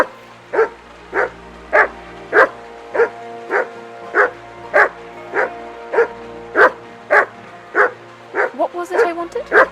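Dog barking in the video game Kingdom Come: Deliverance, a steady run of about eighteen sharp, evenly spaced barks, close and loud, quickening into a cluster at the end.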